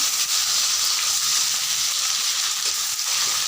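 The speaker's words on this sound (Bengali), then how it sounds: "এরপর আমি পেঁয়াজ কুচি দিয়ে দিচ্ছি।" Chopped onions hit hot oil already seasoned with cumin, black pepper and cinnamon, giving a loud, steady, bright sizzle that holds without a break for a few seconds, with no voices.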